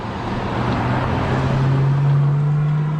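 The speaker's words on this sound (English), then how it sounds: "let that car go by" A car drives past close by, a steady broadband roadway rush with a rising engine hum that swells toward the end, loud and alone with no talking.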